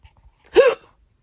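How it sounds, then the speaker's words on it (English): A single hiccup, short and close, in an otherwise quiet moment during a long bout of hiccups on a three-day fast. "the hiccups lasted about 30 minutes"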